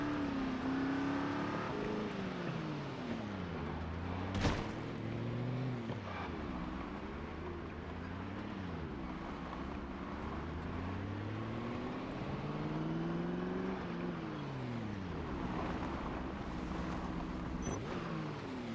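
Engine drone of a car in the Project Zomboid video game, with a rising and falling pitch as it speeds up and shifts gears. It runs steady and loud throughout, with no one talking.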